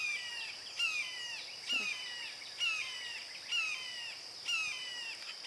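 A small hawk calls repeatedly from the trees of a park on a quiet morning, sharp high descending cries roughly once a second, over a steady background drone of insects.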